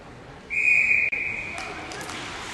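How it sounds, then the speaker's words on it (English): A referee's whistle stops play in a U16A girls' ice hockey game, one loud, shrill blast lasting about a second, followed by faint rink ambience. "She makes the save, and we'll take the whistle to stop the play."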